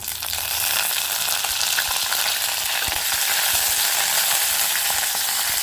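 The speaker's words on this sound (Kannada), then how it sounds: "ಎಣ್ಣೆ ಬಿಸಿಯಾಗಿದೆ ಇವಾಗ ಸಾಸಿವೆ ಹಾಕ್ಕೊಳ್ತಿದ್ದೀನಿ ನೋಡಿ ಸಾಸಿವೆ ಹಿಡಿತದೆ ಈಗ ಮೆಣಸಿನ್ಕಾಯಿ ಹಾಕ್ಕೊಡೋಣ" Mustard seeds, green chillies and curry leaves temper in hot oil for bisi bele bath, making a loud, close, continuous sizzle dense with crackles and rapid spitting pops, with no speech.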